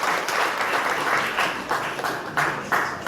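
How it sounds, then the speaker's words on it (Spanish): Audience applause for artists at a bilingual education workshop in Puerto Bermúdez, a steady dense clapping from a sizeable crowd that swells in bursts and carries on throughout without a break. "Fuerte aplausos para nuestros hermanos"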